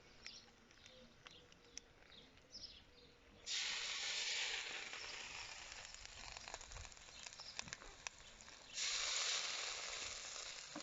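Fish pieces laid skin-side down on a hot metal plate over a barbecue fire hiss and sizzle steadily, swelling into a loud, bright burst as each piece goes down, then settling into continuous frying crackle.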